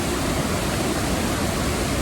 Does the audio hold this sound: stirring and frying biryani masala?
no